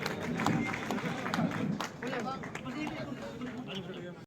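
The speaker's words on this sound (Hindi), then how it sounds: "आपकी तालियां, जोरदार तालियों के एक बार स्वागत फिर" A large crowd applauds and cheers to welcome a BJP state party president at a political gathering, with steady dense clapping and chatter throughout and a voice speaking over it.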